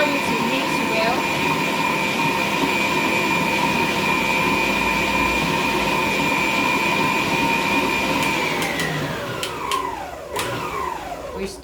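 An electric mixer whips white buttercream icing with a steady, close motor whir that holds for about nine seconds, then spins down and stops with a few clattering knocks.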